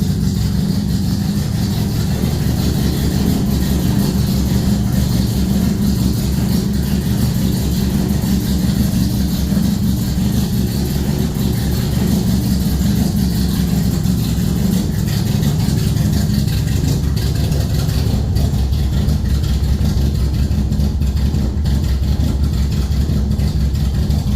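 A Nissan 240SX S13 with a KA24DE engine idles just after start-up with a rebuilt fuel rail, a loud, steady low rumble with an uneven, wavering idle.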